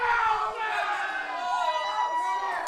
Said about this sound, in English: It is a raucous crowd here in Newport for this match